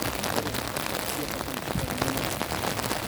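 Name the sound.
rain falling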